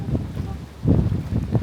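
Strong gusting wind sweeps a secluded beach on the Phi Phi Islands under suddenly stormy, monsoon-like skies. Loud buffeting bursts rumble close against the microphone.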